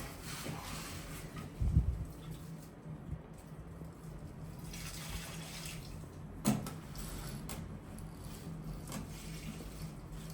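Water poured onto freshly planted shade-loving plants in window planters, a quiet steady trickle and splash with a couple of brief louder splashes, heard alone.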